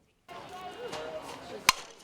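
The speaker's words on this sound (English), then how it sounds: "The crack of the bat" A single sharp crack of a softball bat striking the ball, close and brief, cutting through a background of voices and crowd noise at a college softball game.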